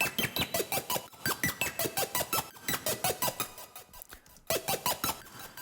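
A Serum synth patch plays a fast, steady arpeggio of bright plucky notes with its wavetable LFO modulation bypassed, rhythmic and upfront, with a short gap before the pattern resumes.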